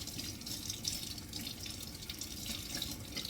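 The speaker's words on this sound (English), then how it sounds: "let me rinse my hands off" Tap water runs steadily into a kitchen sink while hands are rinsed during cooking, a continuous close hiss and splash with no talking over it.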